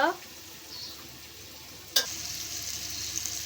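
Chicken meat fries in a pan with a continuous crackling sizzle, then a sharp utensil clink comes as it is stirred about halfway through, followed by louder sizzling.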